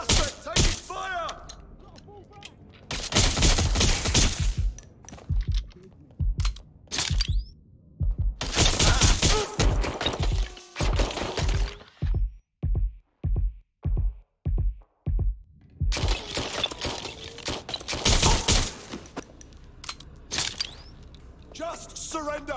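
Gunfire in a Watch Dogs Legion shootout rings out in loud, sharp bursts and rapid volleys, including a steady run of evenly spaced single shots, with short silent gaps and voices shouting in between.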